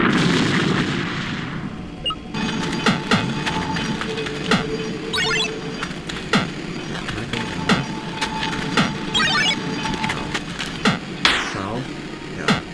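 Cannons fire in the video game Manamon 2, a run of sharp, percussive booms and cracks scattered irregularly over a busy game soundscape with sweeping effects, fairly quiet rather than thunderous.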